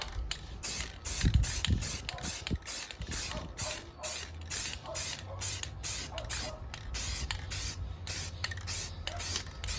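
Repeated bursts of aerosol primer spraying onto a Toyota Tacoma under panel, hissing on and off in a steady rhythm, close by, with faint clicks between bursts.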